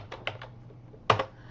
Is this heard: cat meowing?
no